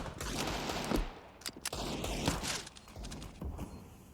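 Gunfire sprayed through smoke in a Counter-Strike professional match, MOUZ versus fnatic at the IEM Rio Major 2022, heard as bursts of rapid shots with sharp cracks amid game noise, moderately distant.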